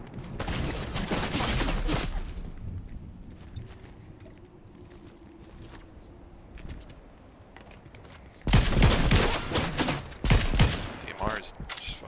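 DMR rifle fire in a shooter video game comes in dense bursts of rapid, loud shots at the start and again near the end, with quieter gameplay and faint voices between.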